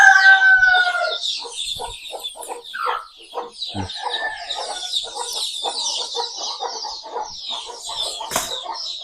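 Country chicken chicks on a native-poultry farm chirp and peep busily in quick overlapping bursts, a continuous close chorus of small high calls with no talk.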